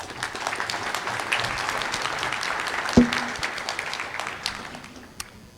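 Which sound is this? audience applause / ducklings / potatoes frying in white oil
audience applause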